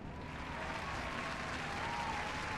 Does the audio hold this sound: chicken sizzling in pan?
no